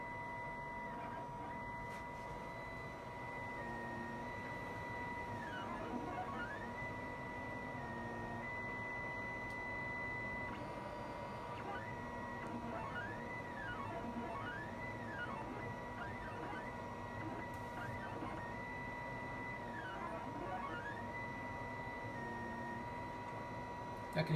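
A Creality CR4 3D printer lays down a first layer of PLA with steady stepper-motor whines that rise and fall in pitch as the head moves. It runs at low volume beneath a faint background voice.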